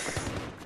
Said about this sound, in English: Man, this gun shoots fast!